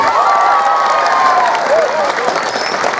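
A crowd applauding and cheering together, a dense wash of clapping with shouts and a few high voices rising over it.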